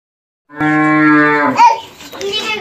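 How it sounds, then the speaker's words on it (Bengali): A cow lets out one loud, close, drawn-out moo lasting about a second, followed by softer rustling and faint background sounds. "শুনতে পাচ্ছেন গরুর ডাক মুরগির ডাক"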